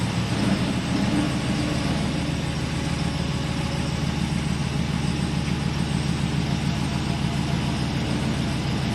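A Hemi 6.4 V8 fitted with an MBRP 4-inch cat-back exhaust idles nearby with a deep, steady, pulsing rumble that holds throughout.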